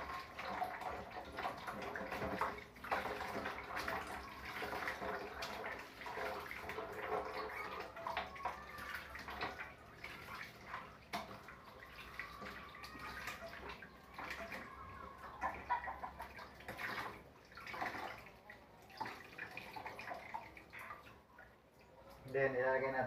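Santol fruit squeezed by hand in water to draw out its sourness and saltiness, giving soft, close sloshing and splashing that comes and goes in quiet bursts.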